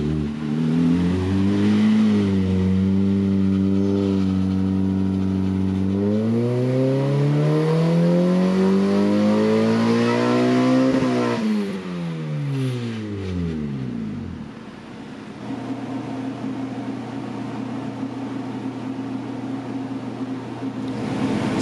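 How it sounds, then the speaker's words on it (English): K24-swapped Mazda Miata doing a third-gear power pull on a dyno. The engine climbs steadily and loudly toward a high-revving peak, then drops sharply off throttle and settles to a rough idle. "right now he is doing some power pulls with this car."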